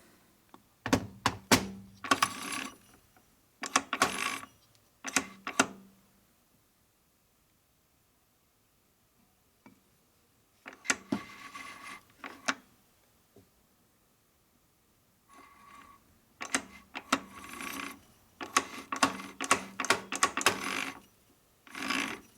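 Bursts of mechanical clicking and clunking from a 1952 Harley-Davidson Panhead motorcycle's 4-speed transmission gears come in clusters separated by quiet gaps, fairly close and moderately loud.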